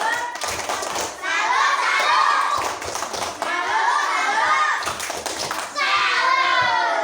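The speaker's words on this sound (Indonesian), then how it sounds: "Tepuk salam untuk kelompok 3." A school class claps out a rhythmic 'tepuk salam' clapping chant together for a student group, loud patterned claps and thumps mixed with children's voices chanting along.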